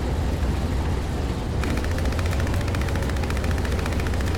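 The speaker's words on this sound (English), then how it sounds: "I can hear some enemy fire going." Enemy gunfire in War Thunder, a tank combat game: a rapid, evenly spaced machine-gun burst starts after a moment of low rumble and rattles on steadily to the end, moderately loud with no talking.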